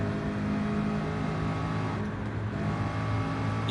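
Racing car engine in the Gran Turismo Sport video game, a steady sustained drone with a faint revving swell, loud and continuous with no talk.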